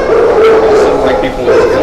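Dog in a kennel giving loud close yipping barks and whimpering whines in quick succession.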